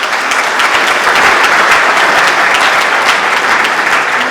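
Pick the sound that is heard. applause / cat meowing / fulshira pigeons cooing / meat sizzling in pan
applause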